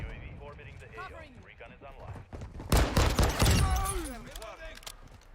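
Pistol fire from Call of Duty: Modern Warfare 2 gameplay cracks out in a quick cluster of loud shots midway through, with someone talking before and after the shots.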